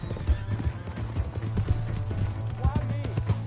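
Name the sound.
horse galloping in a video game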